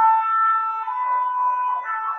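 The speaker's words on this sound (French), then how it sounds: "J'attends que la sirène s'arrête." An emergency vehicle siren sounding outside, a steady wailing tone with slight pitch shifts that holds loud and close for a couple of seconds.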